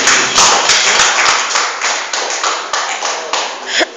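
Church congregation clapping in praise to God, loud close handclaps in a fairly rhythmic pattern of sharp strikes that build into a steady beat and end with a final burst.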